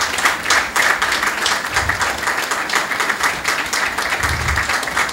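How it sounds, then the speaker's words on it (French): An audience in a lecture hall applauds to welcome a professor, a steady, dense wash of many hands clapping that holds throughout without a break. "Nous allons recevoir avec des applaudissements bien nourris Monsieur Félix Dossou."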